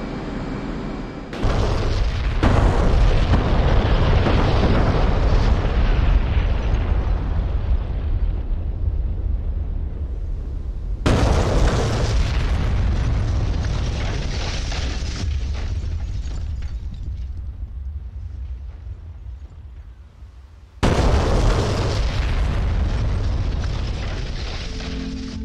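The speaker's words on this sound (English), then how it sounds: "8 JDAMs are dropped, going for all their respective targets" Eight JDAM bombs dropped from an F-18 in the DCS combat flight simulator explode on their targets as three massive, rumbling blasts spaced roughly ten seconds apart, each fading into a long roar.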